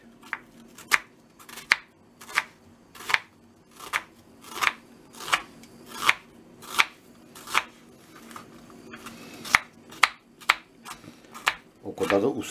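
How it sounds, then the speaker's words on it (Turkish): An onion is chopped finely with a knife, with steady crisp cuts landing about once every second and getting slightly quicker toward the end. "Şimdi soğanımızı doğruyoruz."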